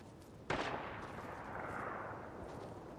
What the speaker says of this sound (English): There's somebody just over this ridge shooting, I can hear him